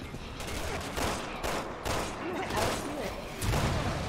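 Gunfire from the video game Resident Evil 6 rattles in dense bursts over a continuous roar of game noise, with voices talking over it.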